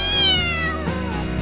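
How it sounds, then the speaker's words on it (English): A mean old cat gives one loud, close, drawn-out meow that falls in pitch, followed by a shorter, softer trailing cry. "our neighbor Mrs. Benson had this mean old cat called Pancake"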